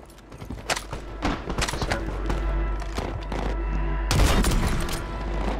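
Gunfire in Warzone 2 on Rebirth Island: dense bursts of rapid shots and thuds crackle throughout, with a heavier blast near the end, loud and continuous.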